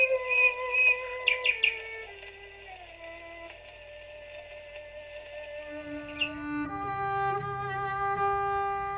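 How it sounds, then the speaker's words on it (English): Nightingales sing in a Kent nature reserve in May: bright, sustained whistled notes and quick chirping bursts ring out clearly, with a deeper, humming tone joining in toward the end. "the Song of Nightingales"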